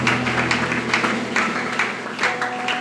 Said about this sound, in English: Somebody clap to Jesus Christ. Just clap. Keep clapping.